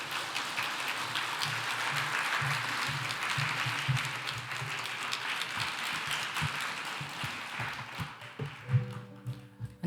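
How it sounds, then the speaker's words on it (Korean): A church congregation's applause welcoming a young speaker to the front during a Sunday service, dense steady clapping that thins out toward the end into scattered claps and faint shuffling as the room settles. "우리 큰 박수로 한번 좀 잠깐 환영하면 좋겠습니다"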